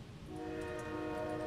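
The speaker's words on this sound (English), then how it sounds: "they're passing by with trains again" A train rolls past with a sustained horn in the survival game 7 Days To Die, a steady tonal blare held over a rumbling rail bed for the whole stretch, fairly loud and close with no talk.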